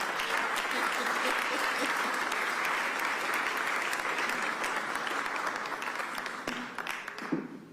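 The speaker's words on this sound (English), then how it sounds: "Put your hands together for my partner." An audience at a Philadelphia press conference on a new 76ers arena gives sustained, dense applause that holds steady for several seconds and then tapers off near the end.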